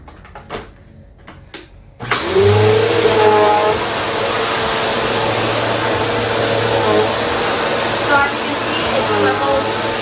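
A Bissell CleanView Swivel vacuum cleaner starts after a few quiet clicks, surging into a loud continuous motor whine and airflow roar that holds steady as it runs close by.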